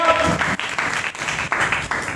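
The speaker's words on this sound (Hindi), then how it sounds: "जोरदार तालियां खुदा उनके जलाल के लिए।" A church congregation gives loud, sustained applause in a room, dense clapping that surges in waves during a Mother's Day sermon, with a voice briefly audible at the start.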